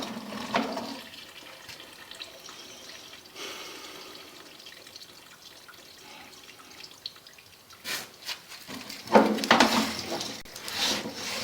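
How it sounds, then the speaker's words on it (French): Water running from a tap during a plumbing inspection, soft intermittent splashing and dripping with louder gushes near the end, fairly quiet and without talk. "Je suis en train de faire couler de l'eau."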